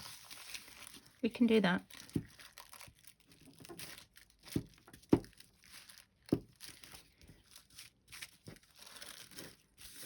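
Paper folded for a junk journal, a burst of crinkling and rustling followed by scattered crisp creases and taps, with a voice speaking briefly.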